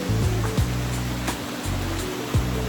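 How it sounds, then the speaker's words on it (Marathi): Feet slosh through shallow, clear seawater at Chivla Beach in Malvan, with periodic splashing steps over a steady rushing wash of small waves, heard close and alone. "आम्ही आता पाण्यातूनच चालतोय."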